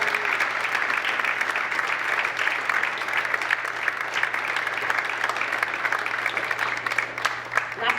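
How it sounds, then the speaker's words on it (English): A conference audience applauds the board of directors at an annual meeting, dense continuous clapping from a large crowd sustained throughout, with a low steady hum underneath. "So a big round of applause."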